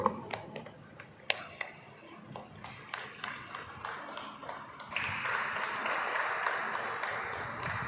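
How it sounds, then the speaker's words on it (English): Audience applause greeting the chief guest arriving at a school Children's Day celebration, starting as scattered claps and swelling into fuller, steady clapping in a hall. "All of you give a big round of applause to our chief guest."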